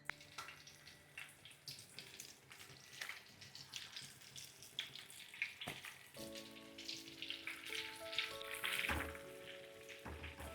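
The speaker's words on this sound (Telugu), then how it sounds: "నూనె వేడెక్కిన తర్వాత ఇలా నూనెలో పకోడీ వేసేసుకోవడమే." Mushroom pakodi frying in hot oil, a faint bubbling sizzle that grows busier as pieces are dropped in, with a light tonal hum later and no talk.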